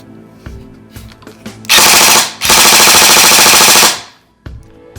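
An Avengers M4 airsoft electric rifle fires two sustained full-auto bursts, a fast buzzing rattle of shots, loud and close, with a brief pause between them.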